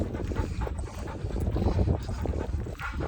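A doodle pants steadily and rhythmically up close during an obedience training exercise, quick breathy huffs continuing throughout with no talking.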